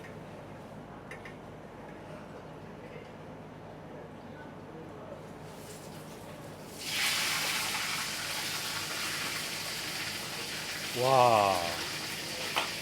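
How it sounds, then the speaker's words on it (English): Hot oil ladled over a German pork knuckle sets off a loud, close sizzle that swells suddenly and holds steady, with a brief spoken exclamation and a gurgling pour near the end. "you're going to baste the knuckle, and the skin will puff up after the second or third baste"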